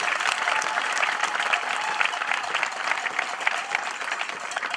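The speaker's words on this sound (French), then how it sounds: "je demande à l'assistante d'applaudir très fort" An audience at a ribbon-cutting ceremony in N'Sele, Congo, for 150 newly built houses applauds loudly, a dense, steady wash of many hands clapping with no voices on top.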